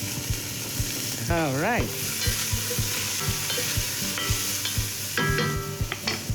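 Chopped leeks sizzle and fry in a pan for clam soup, a loud steady hiss with stirring scrapes and clicks throughout; a voice briefly speaks.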